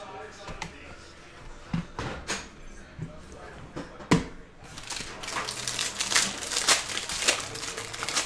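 Foil trading card pack of Panini Mosaic football cards being torn open, a run of crinkling rips and rustles building toward the end, close and fairly loud, with speech around it.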